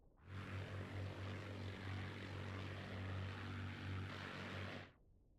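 Propeller fighter plane in the Battle of Britain flight game Scramble, climbing as a steady droning engine hum with a low pulsing throb that holds loud and even for about five seconds, then cuts off.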